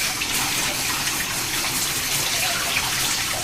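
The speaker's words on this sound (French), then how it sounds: "Je vais rincer votre dos maintenant." Water is poured to rinse a person's back during an assisted bath, making a close, steady gushing splash that runs without break and without talk.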